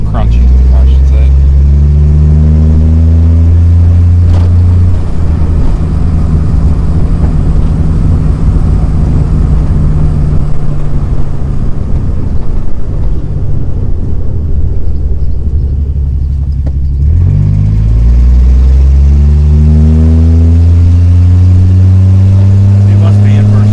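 A 1963 Ford Falcon Futura hardtop on its first drive in 18 years: the engine revs up loudly in rising sweeps, drops back and climbs again, stuck in first gear, with a voice speaking over it.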